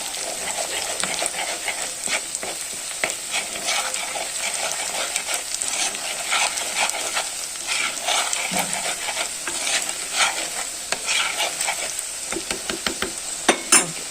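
Chili powder, turmeric and fenugreek fry in hot oil for a coconut-milk fish curry, giving a steady close sizzle with repeated stirring scrapes and a few louder clinks near the end, no talking.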